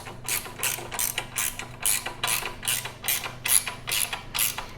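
Ratchet with a 19mm socket tightening a crash bar bolt on a Yamaha XT 1200 Super Tenere motorcycle, giving a close, even series of about ten sharp clicking strokes.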